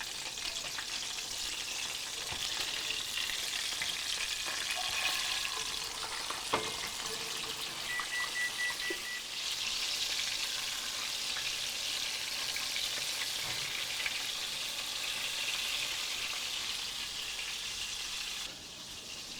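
Hamburgers fry in beef tallow in a skillet with a continuous close crackling sizzle that holds steady throughout, broken by occasional soft clicks, with no talk.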